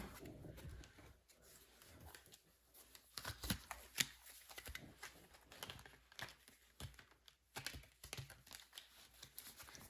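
Tarot cards are shuffled and riffled repeatedly up close, crisp papery flutters and taps in irregular bursts, quiet overall with no talking.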